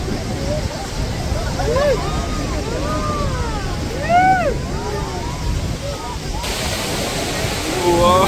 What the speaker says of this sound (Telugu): ఫాల్స్